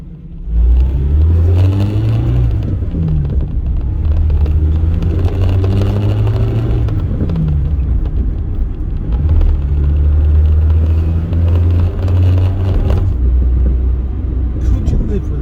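An Austin 1300 car on the move, its engine giving a loud steady rumble with gear changes throughout, heard from inside the cabin.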